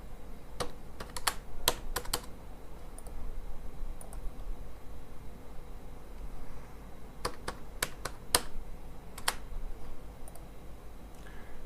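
Short bursts of key presses on a computer keyboard while entering a net profit figure for an income tax return, with quick clusters of crisp clicks separated by quiet gaps.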